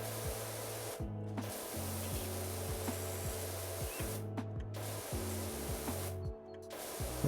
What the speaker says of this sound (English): This thing requires so much spraying.